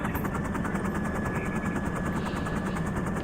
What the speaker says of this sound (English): This helicopter ain't. The helicopter ain't going nowhere.